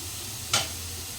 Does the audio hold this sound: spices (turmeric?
yes